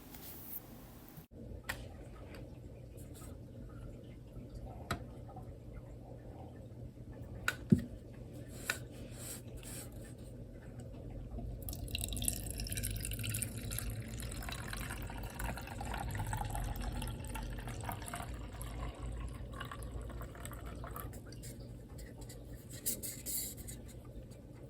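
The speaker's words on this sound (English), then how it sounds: "let's open this can" A 250ml can of Shake Shack Red wine is cracked open with a sharp early click, followed by a long splashing pour into a glass that swells midway and tails off, with no talking.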